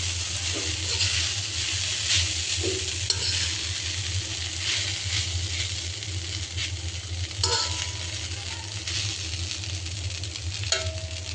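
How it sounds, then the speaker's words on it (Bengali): Kokola noodles with egg and carrot sizzle and fry in a pan, with steady frying hiss, a low hum underneath and occasional scraping and stirring clatters of a utensil against the pan. "এই হচ্ছে আমার নুডলস রান্না শেষ পর্যায়ে।"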